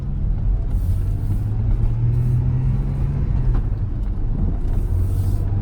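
Porsche 911 on a test drive after a brake job, giving a steady low road rumble with a gentle engine drone that rises and eases, close and continuous throughout.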